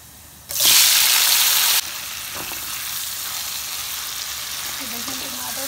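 Chopped tomatoes hit a hot pan with golden fried garlic in a vegetable dish, bursting into a loud hiss that settles into a steady, close sizzle with faint stirring scrapes; no voices are heard.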